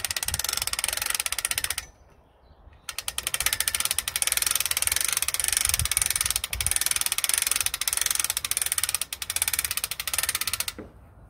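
A camera tripod mast is wound up by hand crank, giving long bursts of rapid, close ratcheting clicks with a short pause partway through.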